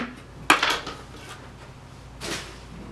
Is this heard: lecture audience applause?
no